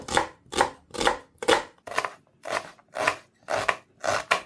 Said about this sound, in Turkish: Öncelikle soğan doğrayalım.